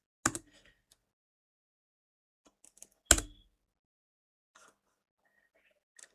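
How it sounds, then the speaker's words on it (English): Two sharp backspace key presses on a computer keyboard, spaced about three seconds apart, close and distinct, with a few faint key clicks between them in otherwise quiet surroundings. "Then we press on the backspace on the keyboard."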